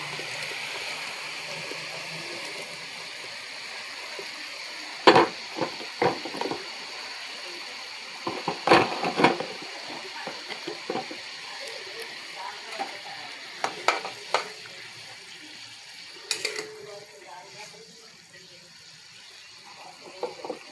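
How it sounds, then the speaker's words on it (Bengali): Raw mourala fish go into a boiling curry broth that bubbles and sizzles continuously, with scattered clatters and knocks from utensils and pot throughout. "এবারে ঝোলটা যা ফুটে গেছে, এবার দেখো আমি মাছগুলো দিয়ে দেবো"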